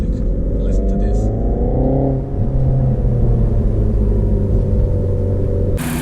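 A 2018 Renault Megane RS engine and exhaust rumble loudly from inside the car, revs climbing then settling into a steady deep drone, ending with a sharp burst.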